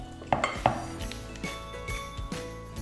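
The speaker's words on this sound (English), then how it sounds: "I'm now going to add the rest of the salad mix." Salad mix for a falafel salad is added to a dish, with a few quick clinks and light clatters of utensils against the dish.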